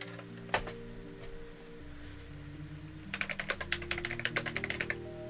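Clicky keystrokes on the mechanical Cherry-switch keyboard of a Commodore 64 Ultimate Founders Edition, a burst of quick typing in the second half after one isolated click near the start, close and fairly loud over a low background hum.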